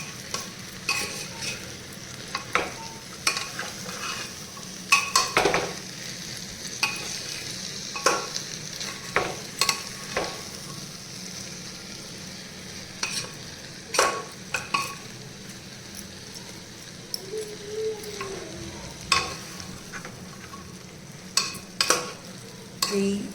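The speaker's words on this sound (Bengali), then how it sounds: "মশলাটার সাথে রাজমাগুলো একটু ভালো করে আমি নেড়ে সুন্দর করে মিক্স করে নিলাম" Kidney beans being stirred into a sizzling spice masala in a pan for Punjabi home-style rajma, with a steady fry under repeated scraping strokes of a spoon.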